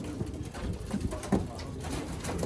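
Pigeons of a pure, hand-selected breed cooing softly inside a loft, low murmuring calls rising a few times over a steady background hum, with no talking.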